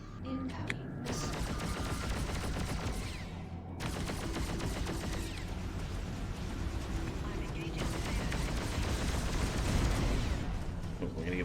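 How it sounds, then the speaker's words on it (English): Space combat in the Freelancer game against Nomad ships: an incoming missile and gunfire, heard as a steady, moderately loud wash of rapid shots and blasts with a brief pause partway, mixed with game music. "Incoming missile."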